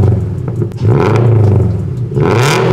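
Subaru BRZ with an aftermarket exhaust revving indoors, a loud, close engine roar that rises, dips briefly, then surges again in quick throttle blips.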